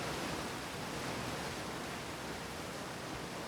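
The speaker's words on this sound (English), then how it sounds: "Gosh, that waterfall is loud." A loud waterfall in the Outer Wilds video game roars as a steady, dense rush of broadband noise that stays constant throughout, with no voices over it.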